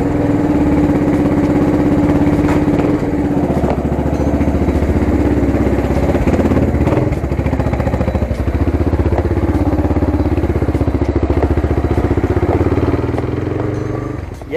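A Yamaha Fazer 250 motorcycle fitted with Cofap shock absorbers rides steadily, its single-cylinder engine droning loud and continuous with a mechanical clatter throughout, close to the microphone and easing off at the very end.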